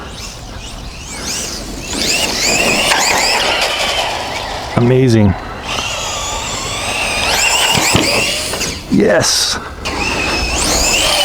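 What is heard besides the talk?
VKAR Racing SCTX10 V2 RC truck driving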